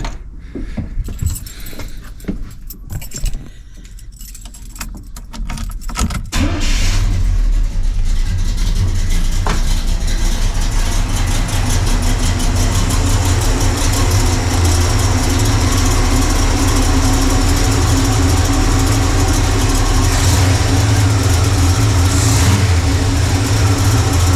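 Keys jangle and a Chevrolet Squarebody truck engine starts after a timing adjustment, then settles into a loud, steady, slightly high idle that runs to the end.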